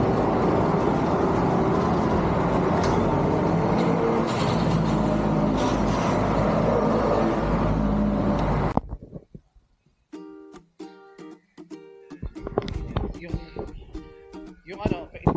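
New Toyo tires on the front wheels roll over the road with a steady, loud cabin rumble for about nine seconds, then the noise drops away abruptly and people talk afterward.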